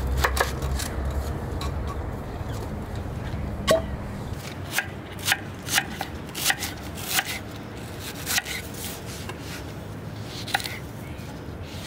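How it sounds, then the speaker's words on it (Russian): A knife cuts through onion into half-rings on a board in irregular crisp chops, fairly close, over a low outdoor rumble. "лук нарезаем просто полукольцем"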